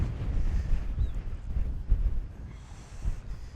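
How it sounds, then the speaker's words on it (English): Strong gusty wind sweeps across a high desert golf course in Central Washington, buffeting the microphone with a continuous low rumble that swells in gusts throughout, with no talking. "we got a really strong right to left wind right now"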